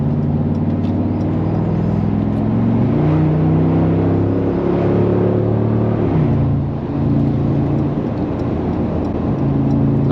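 Hofele HG 63, a 2024 Mercedes G-Wagon, pulling hard on the Autobahn, its engine a steady, loud, rising drone with layered harmonic tones and road rumble throughout, no voices over it.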